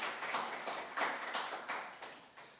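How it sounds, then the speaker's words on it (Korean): Steady applause from a church congregation, many hands clapping together at a moderate level without voices. "우리 하나님께 영광의 박수 올려드리도록 하겠습니다."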